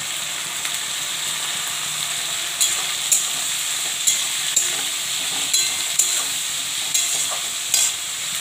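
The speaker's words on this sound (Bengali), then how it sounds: "একটু ভাজা ভাজা হোক" Garlic paste and peas fry in a pan with a continuous hissing sizzle, punctuated by periodic sharp clicks of stirring against the pan, close and even.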